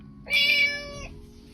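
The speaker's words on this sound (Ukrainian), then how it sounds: "Помаранчевий. Котик." A single electronic cat meow plays from a Dancing Beetle children's toy, short, bright and close, with no talk around it.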